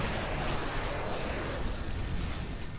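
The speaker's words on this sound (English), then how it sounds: "And try and avoid those explosions." Diablo III gameplay with an Arcane Orb Wizard, filled with a dense, continuous rumble of explosions and spell impacts, loud and steady throughout, with no speech.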